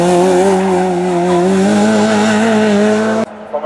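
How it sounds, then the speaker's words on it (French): A race car at the 2018 Sancerre hill climb roars past loud and close, its engine note rising and holding steady for about three seconds before cutting off abruptly. "Et Sébastien Martin qui est dans la course."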